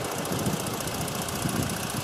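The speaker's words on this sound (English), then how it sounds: "We have a 2017 Ford Explorer. The vehicle is currently running." A 2017 Ford Explorer engine running at idle, a steady close rumble with an even mechanical ticking and no talk.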